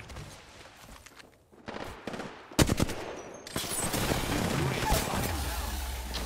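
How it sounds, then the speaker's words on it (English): Enemy gunfire in a shooter video game rattles in bursts and single shots, at first sparse and quieter, then dense and loud after a sharp blast midway. "The enemies are shooting at me."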